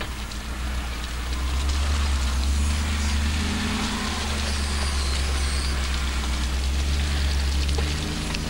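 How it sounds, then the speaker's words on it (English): A Land Rover 90 4x4 crawls over humps on rough ground, its engine holding a steady low rumble with gritty rattles and faint creaks, loud and close and continuing unbroken to the end. "As the 90 is driven across these humps"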